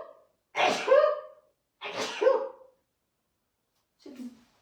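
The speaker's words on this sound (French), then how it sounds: "il faut que j'éternue, excusez-moi" Loud, close human sneezes with no talk around them: two full sneezes about a second apart, each a sharp burst with a breathy wind-up, followed by a shorter, fainter sniff or snort.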